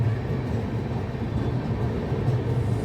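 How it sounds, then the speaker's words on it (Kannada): A Bengaluru metro train on the green line near Mahalakshmi station runs past with a steady low rumble that holds even throughout, with no voices. "ನೋಡಿ, ಮೆಟ್ರೋ ಹೋಗೋದು ಕಾಣಿಸ್ತಾ ಇದೆ ನಿಮಗೆ"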